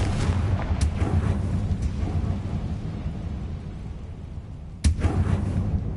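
A fiery blasting spell in the Hogwarts Legacy video game rumbles as a loud, sustained explosion, then gives way to a sharp second crack with another rumbling burst, all without talk.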